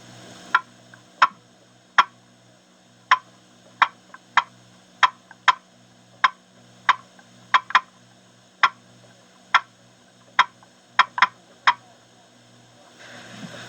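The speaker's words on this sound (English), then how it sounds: "Then add some feeling and rhythm, and you'll have a good series of clucks." A series of about sixteen sharp, crisp turkey clucks from a box call, spaced in a loose, uneven rhythm with short pauses and a few quick doubles.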